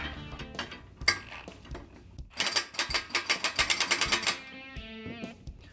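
A ratchet and socket tighten bolts while assembling a Black Boar scrape blade, starting with a few scattered clicks and knocks, then a fast run of even ratcheting clicks up close.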